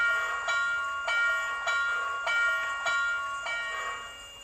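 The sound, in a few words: bell sound of MTH HO scale Southern Pacific GS-4 model locomotive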